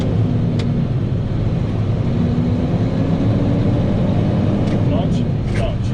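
A truck engine, driven by a rookie learning to drive a CDL truck, roars steadily as gas is applied after shifting toward fifth gear. The loud, low drone stays constant and close inside the cab, with a voice talking over it.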